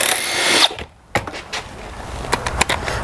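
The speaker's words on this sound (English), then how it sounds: "And with your T27 Torx, get the 4 screws out of here." Air filter screws being removed from a STIHL concrete saw with a T27 Torx driver, a close burst of whirring tool noise that cuts off, followed by scattered sharp clicks and scraping knocks.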